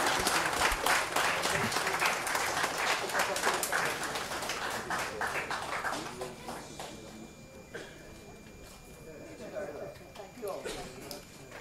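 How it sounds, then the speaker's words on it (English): A crowd at an outdoor lights switch-on ceremony at a recreation ground in Penal, Trinidad, breaks into sustained, fairly distant applause that gradually thins toward the end, with voices mixed in beneath the clapping. "Gentlemen, a round of applause."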